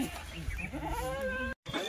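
Goats bleating at a goat market, one loud, close, wavering bleat drawn out over a second, with people talking in the background and a brief cut near the end.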